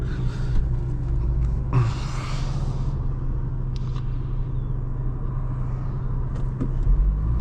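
Inside a Daewoo Lanos 1.5 driving on the road, a steady low engine and tyre rumble carries on throughout, with a few faint clicks and brief higher noises over it. There is no talking.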